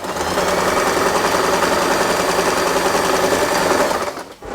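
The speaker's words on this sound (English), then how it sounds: "Fold it in half and sew this part." Sewing machine stitching a small folded fabric piece, about 5 by 3 inches, for a bow headband, running in a steady, continuous close whir that stops abruptly near the end.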